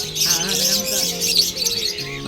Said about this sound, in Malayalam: അമ്മയുടെ പ്രാവ്